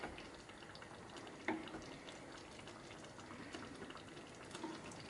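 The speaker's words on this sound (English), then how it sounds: "I'm going to keep on pouring that sauce over the top of the meatballs." Thick tomato sauce for spaghetti and meatballs pouring into a pot over the meatballs, a soft continuous wet trickle with a brief louder splash partway through, steady and close.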